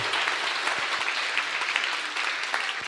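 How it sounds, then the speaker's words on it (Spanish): Steady, dense applause from a group, praising a child named Casiel, fills the whole stretch at an even level with no break. "Un aplauso para Casiel"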